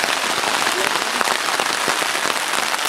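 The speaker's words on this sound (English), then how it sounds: "we're getting hit by a little bit of a rainstorm" Rain drums steadily on a tarp strung over a campsite on a multi-day cabin loop hike, a dense, close, continuous patter with scattered sharper drops and no talking.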